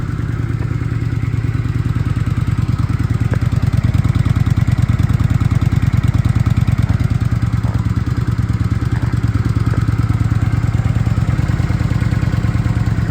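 A Kawasaki VN 900 Vulcan cruiser motorcycle engine idles close by with a deep, steady, loping thump that continues unbroken throughout.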